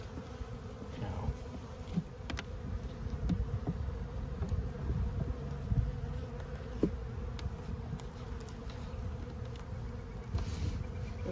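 Honey bees buzzing during installation of a new package into a hive: a dense, continuous close-up drone with occasional louder passes of single bees near the listener.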